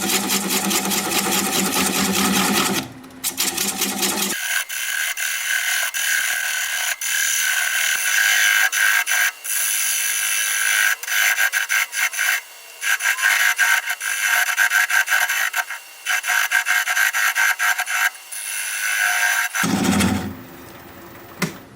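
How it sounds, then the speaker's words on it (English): A wood lathe spins a large ponderosa pine piece while a 3/8 inch bowl gouge cuts in repeated bursts, a rough hissing scrape over the steady motor whir with short pauses between passes. "I'm going to grab a 3/8 inch bowl gouge and commence to removing that tenon."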